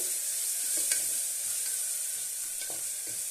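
Ginger garlic paste fries in a pan with a steady, close sizzle and occasional soft stirring scrapes.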